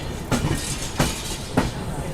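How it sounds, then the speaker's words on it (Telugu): The Kollam–Visakhapatnam weekly express, hauled by an Erode-based WAP7 electric locomotive, rolls along with a steady rumble broken by three evenly spaced clacks of wheels crossing rail joints, heard from close by. "ఈరోడ్ సంబంధించిన WIP7 locomotive, Kollam Visakhapatnam weekly express train ఇది"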